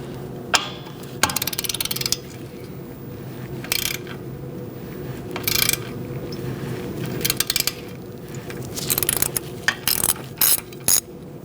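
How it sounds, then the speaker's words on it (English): A ratchet with a 10mm socket works rusty wheel cylinder bolts on the rear brakes of a 2006-2011 Chevrolet HHR. Close, sharp bursts of ratcheting clicks come in repeated short strokes, separated by brief pauses, with no talking. "Once you free up your line, you're going to remove these two bolts. I'm using a 10mm socket to do that."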